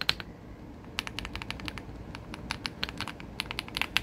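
Typing on a Yindiao Y95 wireless keyboard: quick, irregular clicky keystrokes, close up and crisp, in short bursts with a low background hum and no talking.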